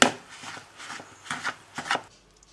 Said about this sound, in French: Voilà le beurre qui est mis sur la farine. Je vais mélanger jusqu'à liaison.